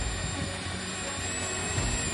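Twin 70mm electric ducted fans on a fully 3D printed RC F-35B STOVL jet roar steadily, a loud sustained whine with a high-pitched tonal edge and no break.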